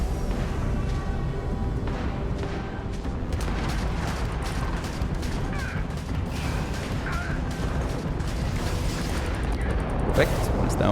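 Rockets firing at an enemy ship's shield during space combat in Starfield, heard as a steady dense rumble with repeated booming bursts and mechanical clanks throughout.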